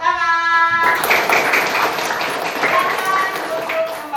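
Children in a classroom clap their hands together on a teacher's cue, a dense, bright burst of many small palms that starts abruptly and fills the room. Voices and background noise sit under the clapping.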